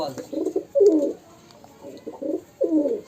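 Rajshahi local tumbler pigeons coo close by in a series of throaty, rolling bursts with short pauses between them, and nobody speaks over them.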